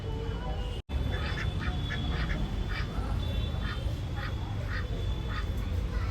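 A duck at a pond quacks in a steady run of evenly spaced calls, moderately close, over constant outdoor background noise.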